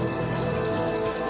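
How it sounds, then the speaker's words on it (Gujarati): Heavy rain pours outside, a dense continuous patter and hiss, loud and close, unbroken from start to finish with no voices over it. "આમ બહાર તો ફૂલ વરસાદ આવે જ છે"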